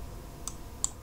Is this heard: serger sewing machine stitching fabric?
no